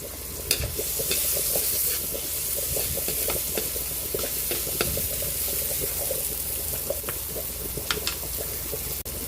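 Onion sautéing in a pan, a steady close sizzle broken by frequent scrapes and taps of stirring.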